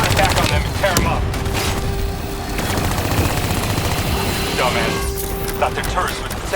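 Automated turret gunfire in Call of Duty: Black Ops 3, loud and continuous bursts of rapid fire over dense battle noise and a steady whine, with a voice speaking over it.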